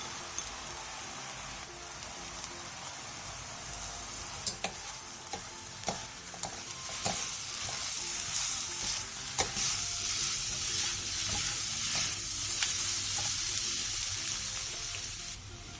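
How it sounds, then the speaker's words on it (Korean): Onion, carrot and green chili peppers stir-fried with a splash of soju in a pan, giving a steady sizzle that grows louder midway, with a spatula scraping and tapping now and then and no talking. "그 다음 소주 3스푼, 양파, 당근, 청양고추를 넣고 양파가 투명해질 때까지 볶아주세요."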